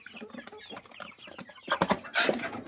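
Chickens cluck in quick, uneven bursts, several birds close by, growing louder and busier toward the end.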